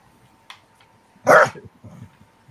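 A dog gives a single loud, close bark, preceded by a faint yip and followed by softer whimpering noises in an otherwise quiet room.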